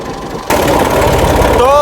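A tractor pulling a trolley with a punctured tyre rumbles into a steady running note after an abrupt start, its low engine thrum continuous and close.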